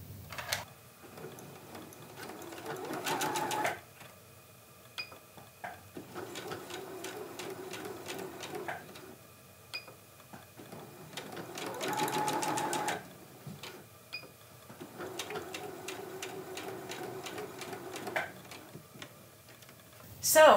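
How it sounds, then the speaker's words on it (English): A sewing machine runs a straight stitch with a standard presser foot, in several rapid rhythmic bursts of ticking mechanical stitching separated by short pauses and small clicks. "I've switched to the standard sewing foot, a straight stitch"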